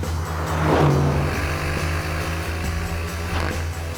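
An Aston Martin Vantage, the smallest and sportiest car in the Aston lineup, drives past with a steady, rasping engine note that swells briefly then holds at a constant pitch, loud and close with no talking.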